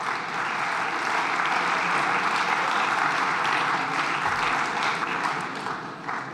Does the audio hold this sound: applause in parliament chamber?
yes